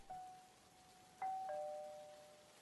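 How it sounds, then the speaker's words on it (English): Doorbell in a janky SpongeBob horror video game, two clear electronic chimes, the first a single sustained tone and the second a two-note ding-dong about a second later, ringing alone over faint background hiss. "ring the doorbell"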